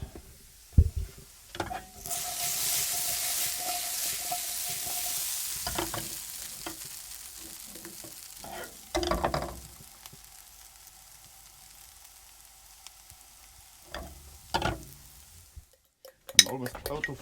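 Potatoes fry in a pan with a loud sizzle that swells for a few seconds and then settles to a softer hiss. Scattered clanks of a utensil against the pan break in now and then, and there is no talk.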